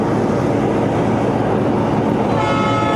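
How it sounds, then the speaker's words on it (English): A train horn sounds faintly near the end, over the steady loud rumble inside a truck cab parked in the USA. "Yeah, that's the train horn."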